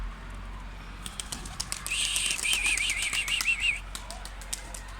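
A burst of wing flaps as a group of Ala pigeons lifts off, a rapid fluttering clatter lasting a couple of seconds over steady outdoor background noise.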